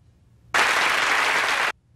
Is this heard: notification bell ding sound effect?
no